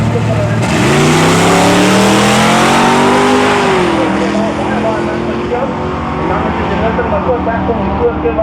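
A Honda and a Mazda drag race down the strip at a regional event, loud engines revving and accelerating with rising pitch, crowd and commentary noise mixed in beneath.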